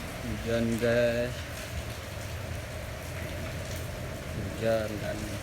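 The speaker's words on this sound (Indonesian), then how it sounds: "Hujan, guys." Rain falls in a steady hiss of drops on a surface, with a voice talking briefly at the start and again near the end.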